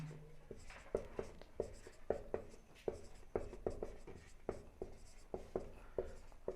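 A pen writing notes on paper, heard up close as a quick run of scratchy strokes and taps in an irregular rhythm, fairly quiet and with no voice over it.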